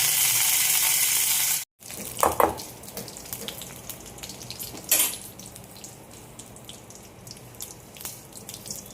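Mustard seeds and chopped curry leaves sputter in hot oil. A loud rushing burst cuts off abruptly, then scattered crackles and pops follow at close range.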